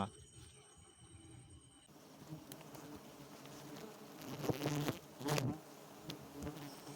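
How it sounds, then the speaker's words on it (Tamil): Rock bees from a mountain bee colony swarm and buzz around a hive that has just been taken down, a dense, close insect drone that swells into louder bursts as they fly about. "இதுலேயும் தேனீக்கள் நல்லா பறக்க ஆரம்பிக்கிறாங்க"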